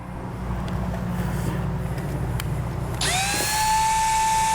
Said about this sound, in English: We need to use a 2-inch hole saw